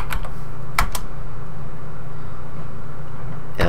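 A few quick keystrokes on a Commodore 64 keyboard while a name is entered: a short cluster of clicks at the start, a pair shortly after, then another near the end, all over a steady low hum.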